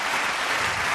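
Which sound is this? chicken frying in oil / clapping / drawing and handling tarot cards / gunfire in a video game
clapping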